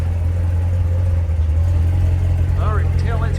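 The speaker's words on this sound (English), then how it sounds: "and here is your exhaust idling" A supercharged 2018 Chevrolet Corvette Z06 sits at idle, its exhaust giving a loud, steady low rumble close by, with a few faint chirping sounds near the end.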